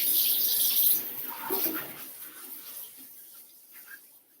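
Tap water runs into a sink to rinse a pan, a steady hissing splash that is loud at first and then tapers off and grows fainter.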